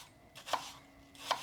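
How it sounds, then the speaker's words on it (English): Apples coarsely chopped with a knife on a cutting board, two crisp close thunks about a second apart over a faint background hum, no talking. "I'm just coarsely chopping it like it said"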